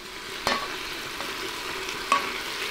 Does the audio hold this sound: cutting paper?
no